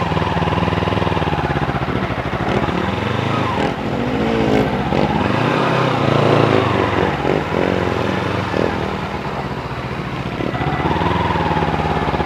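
A motorcycle engine drones loudly and close while riding a hilly road on a Sunday outing toward Barra do Cauípe beach, its pitch rising and falling continuously with no talk.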